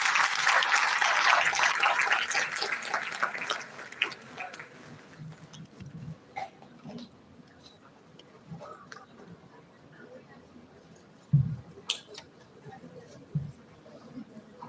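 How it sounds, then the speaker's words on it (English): Audience applause at an international pharmaceutical conference felicitation, a broad, full wash of clapping that fades out after about four seconds, leaving a quiet room with sparse small taps and knocks. "Give a big round of applause."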